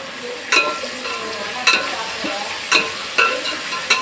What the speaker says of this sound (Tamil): தக்காளியை போட்டு நல்லா வதக்கிக்கணும்.